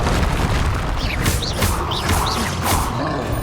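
Bombarda spell blasts in Hogwarts Legacy land as dull booms over a dense, noisy game soundscape, with several swooshing magical bursts and rumbling impacts in quick succession.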